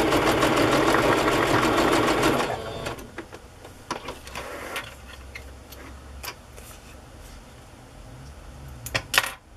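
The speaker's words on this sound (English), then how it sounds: "I'm going to sew it down to the bag and just sew that edge down." A sewing machine stitching lace down onto a bag, a steady loud whirring run that stops after a couple of seconds, followed by quieter handling clicks and a few sharp taps, close by with no talk.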